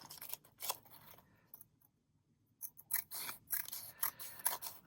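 Scissors trim a paper pocket made from junk mail, producing several crisp, close snipping and scraping cuts in uneven bursts, with a short quiet gap in the middle.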